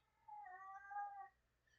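A cat in heat lets out a single long, wavering yowl indoors, quiet and alone in a still room.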